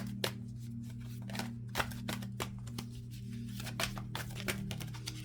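Cards are shuffled repeatedly up close, with quick riffling bursts and soft snaps at irregular intervals over a low steady hum.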